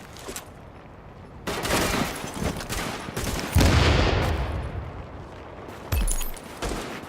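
Gunfire rattles in a firefight in the shooter game The Division as a grenade is thrown, with long loud bursts of automatic fire, sharp single shots and heavy impacts across the clip.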